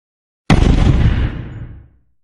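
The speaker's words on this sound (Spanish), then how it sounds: "Una ligera explosión resonó" A single small explosion bursts sharply from silence, then rumbles and fades away over about a second and a half, loud and close.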